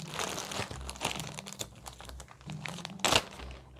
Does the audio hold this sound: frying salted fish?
no